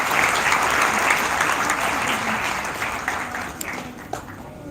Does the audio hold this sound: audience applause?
yes